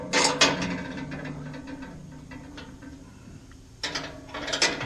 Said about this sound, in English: I'm going to use 2 wrenches to make sure these bolts are securely tightened.